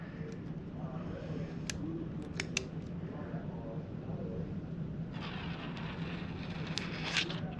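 Protective sticker being peeled off a Thrustmaster Formula Wheel Ferrari SF1000 Edition steering wheel, a quiet close tearing rasp with a few small clicks against a steady room hum.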